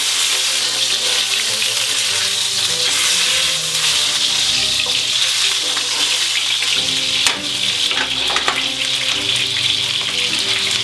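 A pork chop sears in a hot frying pan with a steady, loud sizzle and crackle, occasional stirring or shifting sounds breaking through near the end, with no talking.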